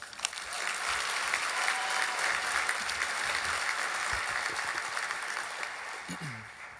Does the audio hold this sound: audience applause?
yes